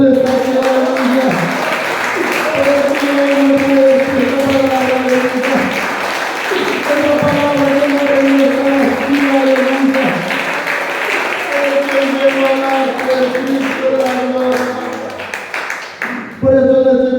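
Church congregation clapping steadily during an evangelical service, the rhythmic applause running loud under continuous singing or music and a voice, with a brief drop near the end.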